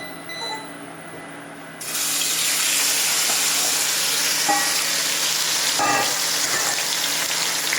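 Meat hitting hot, plentiful oil in a smoking wok on an induction burner, bursting into a loud, steady sizzle that stays dense and close, with a brief clatter partway through.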